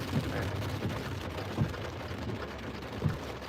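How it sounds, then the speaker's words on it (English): Steady rain with a broadband hiss, punctuated by a few low thumps, heard from inside with no talking. "Great, more rain."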